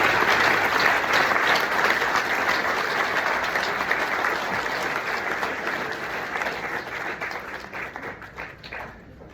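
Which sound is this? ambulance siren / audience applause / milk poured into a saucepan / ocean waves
audience applause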